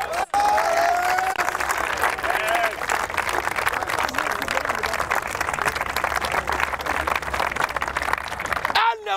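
A congregation at a church sermon breaks into loud, dense applause with some cheering, sustained for about nine seconds, with voices mixed in among the crowd.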